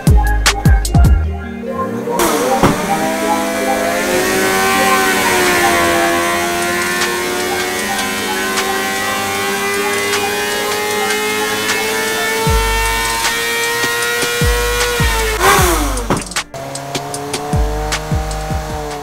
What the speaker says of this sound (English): so we just finished the stock motor on the Dyno